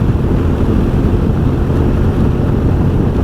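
A 2021 Honda X-ADV motorcycle cruising on a highway in fifth gear, sport mode: a steady, loud roar of engine and rushing wind buffeting the microphone, unbroken throughout.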